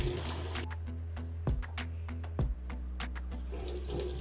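Tap water runs steadily into a sink while vegetables are washed under it, including capsicum, potato, green beans, carrot and corn. A loud, continuous close splashing, broken by a few brief clunks and no talk.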